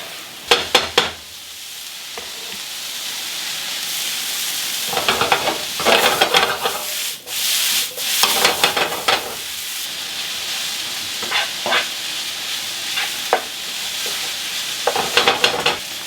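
Heaped chopped eggplant sizzles and hisses steadily in a frying pan as it cooks down, with repeated bursts of stirring and scraping from a utensil and no voices.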